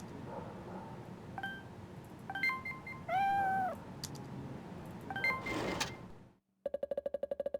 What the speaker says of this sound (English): I love that cat sound.